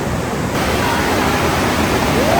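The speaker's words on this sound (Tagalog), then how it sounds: "May ilog dito." A river flowing inside a cave at Tinipak River, a loud, steady rush of water that stays constant and close, with no talk over it.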